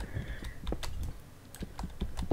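Quick, uneven clatter of keys on a computer keyboard, close and moderately loud, with short bursts of keystrokes separated by brief pauses.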